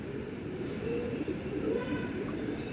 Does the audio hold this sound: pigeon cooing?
yes